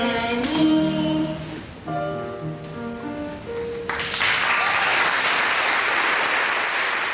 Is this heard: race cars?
no